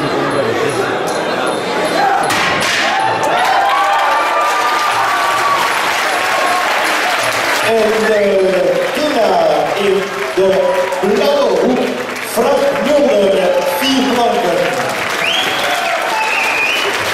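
An audience claps for two fighters at a martial arts event, with steady sustained applause filling the hall while an announcer talks over it, and some cheering rising toward the end.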